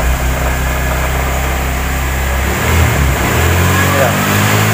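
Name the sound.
Honda Vario 110 carburetor scooter engine revving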